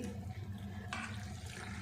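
Hot water pours steadily into a container, close by, with a brief brighter splash partway through and no talking.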